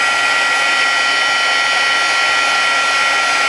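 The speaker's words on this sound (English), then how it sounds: "by simply applying heat to that C-curve stick" Heat gun blowing hot air onto a plastic C-curve stick, a steady loud close-up whooshing hiss with no change in tone.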